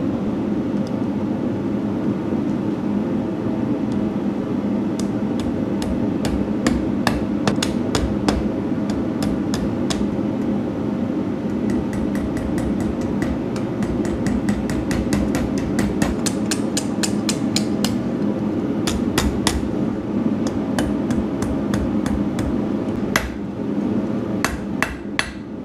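A blacksmith hammering hot steel while drawing out a scribe, with sharp ringing hammer blows in irregular bursts over a loud steady roar of the forge, no talk.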